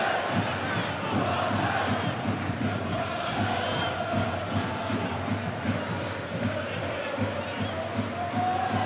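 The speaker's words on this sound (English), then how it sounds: "Good noise from the away end." Away fans chant and cheer in the stands at a Charlton Athletic v Portsmouth football match, a dense, steady roar of massed voices with a rhythmic chanting pulse, continuous and loud with commentary over it.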